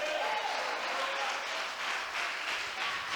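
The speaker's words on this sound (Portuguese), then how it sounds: "Você pode dar um aplauso ao Senhor," A crowd applauds in a dense, even wash of clapping that holds steady for the whole stretch.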